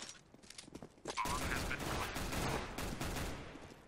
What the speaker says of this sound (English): there's four people shooting at him!